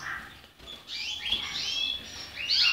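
Portuguese harlequin canary chirping in a breeding room, with a few short, high tweets and trills close by over low background noise.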